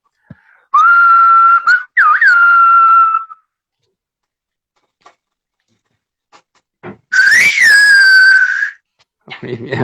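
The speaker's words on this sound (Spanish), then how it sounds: "Yo lo voy a silbar lo más alejado del teléfono" Two long, piercing whistled phrases with gliding pitch, loud and close, separated by a quiet pause, like a message in a whistled language.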